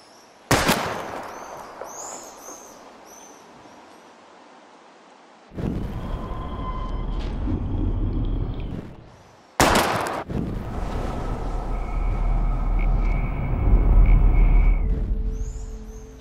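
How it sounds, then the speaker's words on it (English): Two sharp, loud gunshots crack out several seconds apart as bottles are shot at in the video game Life Is Strange, each followed by a sustained ringing, droning background with faint chirps between them. "We're gonna shoot all these bottles without wasting a single bullet."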